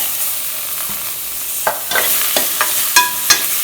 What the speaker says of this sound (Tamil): நான் எப்போயும் இப்படி வணக்கி தான் செய்வேன் அதனால தான் வணக்கி செய்கிறேன்